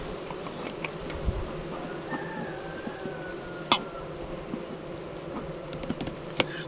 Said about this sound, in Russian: Пчелки такие беспокойные немного.